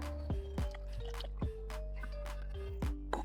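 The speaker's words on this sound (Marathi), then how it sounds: "गुळ वितळण्यासाठी मी एक वाटी पाणी घातलेले आहे" Water splashes and drips onto jaggery in a vessel in several uneven bursts over a low steady hum, close by, with wet squishy dribbles in between.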